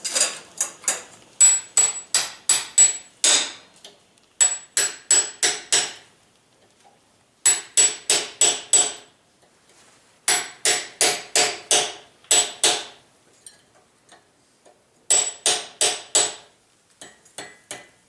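Bursts of sharp, ringing hammer blows on a chisel while forging metal, five or six quick strikes at a time, separated by short pauses, loud and close.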